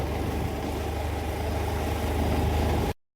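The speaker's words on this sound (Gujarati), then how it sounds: "એક હાથે એક્ટિવા ચાલું છું અને એક હાથે મોબાઈલ પકડ્યો" Honda Activa scooter riding, a steady low engine drone with road and wind noise, cutting off abruptly near the end.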